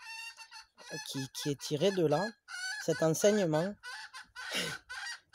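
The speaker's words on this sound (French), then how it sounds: "Il y a la poule qui essaye de nous expliquer" A hen clucks in short, repeated bursts mixed in with a person speaking French, the calls and talk overlapping fairly close up.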